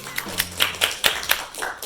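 Brief, scattered clapping from a small lecture-hall audience at a university database systems class, a handful of distinct claps in quick succession, close and moderately loud with no talk.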